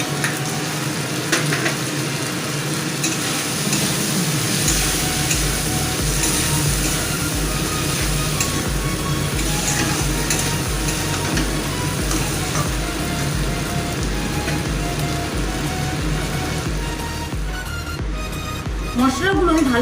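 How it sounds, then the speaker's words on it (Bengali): Spices and poppy seed paste being stirred in a pan while preparing Bengali prawn curry, a steady frying sizzle with scraping stir sounds running throughout, fairly loud and continuous. "মশলাগুলো আমি ভালো করে মিক্স করে নিয়েছি।"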